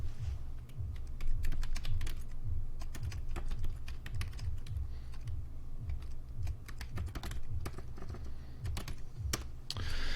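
Fast, steady clatter of a computer keyboard with dense, crisp close key clicks and no speech.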